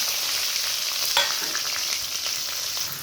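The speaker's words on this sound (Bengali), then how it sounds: "তেলটা গরম হয়ে গেছে, কেটে রাখা পেঁয়াজ, রসুন, লঙ্কা দিয়ে দিব" Chopped onion, garlic and chilli frying together in hot oil, a steady close broadband sizzle with a brief sharper crackle near the start, continuous and without speech.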